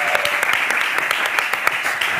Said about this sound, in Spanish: Aplauso a ese conejo.